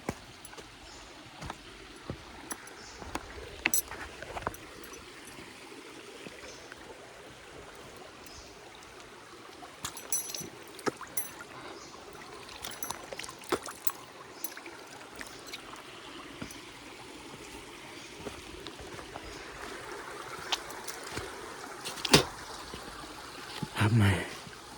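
A stream flowing along a trail on the way to the Dholkal Ganesh temple, heard as a soft, steady trickle and babble of water with scattered splashes and knocks close by.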